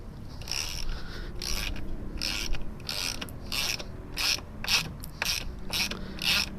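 Repeated clicking bursts of a ratchet driving a Torx bit to remove a seatbelt bolt from a Toyota 4Runner seat, about a dozen quick ratcheting strokes in an irregular rhythm, close and fairly loud with no talk.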